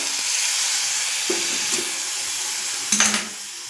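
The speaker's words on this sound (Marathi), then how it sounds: "थोडंसं मी गरम पाणी टाकत आहे मसाले जळू नये म्हणून" Hot water is poured into spices frying in a pan for a bean curry, giving a soft sizzling hiss with a few small clinks and a sharper burst of bubbling near the end, close and moderately loud.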